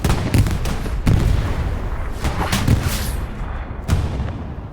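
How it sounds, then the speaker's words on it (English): Tank cannons boom repeatedly across a battlefield in the video game Hell Let Loose, several heavy blasts at irregular intervals, some near and loud, others more distant, over constant rumbling combat noise. "So many tank cannons"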